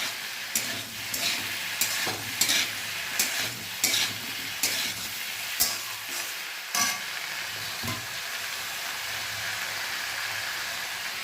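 Squeezed-out soya chunks fry in a pan with a steady sizzle as a spatula stirs them in quick, uneven scraping strokes, close by, the stirring easing off toward the end, with no voices.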